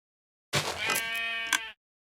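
A single sheep bleat from the Minecraft video game, a clear sustained wavering call lasting just over a second and then ending abruptly in silence.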